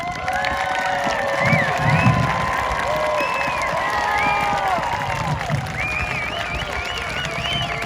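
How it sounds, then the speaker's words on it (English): A crowd at a combined high school commencement for the class of 2022 cheers, whoops and applauds for the graduating students, with shrill whistles and shouts rising over continuous clapping throughout. "give a round of applause for the students of the class of 2022"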